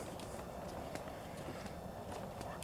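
Light rhythmic slapping of flip-flops on a path repeats steadily over a constant outdoor background hiss, in Florida.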